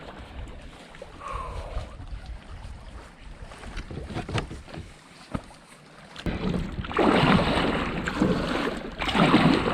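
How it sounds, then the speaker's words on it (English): Wind gusts over a reservoir, blowing steadily against the microphone with rising, rushing surges in the second half, loud and close, no voices. "There's the wind, of course."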